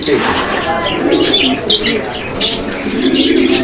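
Fancy pigeons at a bird market coo in soft, repeated throaty calls mixed with chirps, close and fairly loud, against a busy background with possible voices.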